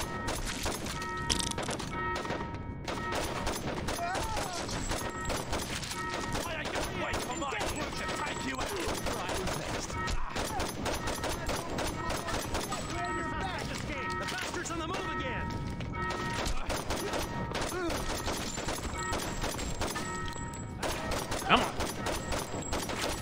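Rapid bursts of gunfire from the video game Saints Row 2, dense and continuous throughout with sharp overlapping shots, while players talk over the action.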